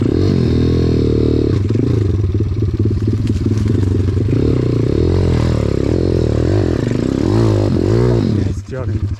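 A dirt motorcycle fitted with Renthal Fatbars climbs a steep slope, its engine revving hard and continuously with clattering and scraping close by before the throttle briefly drops near the end.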